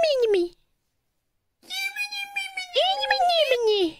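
A cat meows twice, a short high call followed after a pause by a longer, wavering, drawn-out meow, close and clear with nothing else around it.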